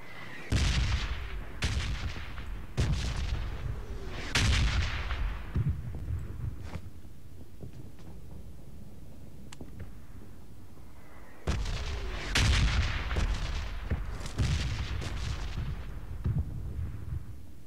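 Bomb blasts and gunfire from a PUBG battle: a series of sharp, loud broadband bursts with rumbling low-end tails, clustered in two volleys separated by a quieter stretch of distant crackling shots.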